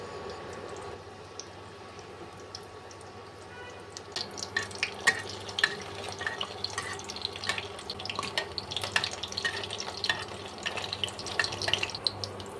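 Pui leaf fritters (beguni) sprinkled with poppy seeds are lowered into hot oil. After a quiet start, a busy crackling sizzle with sharp pops kicks in and keeps going close by.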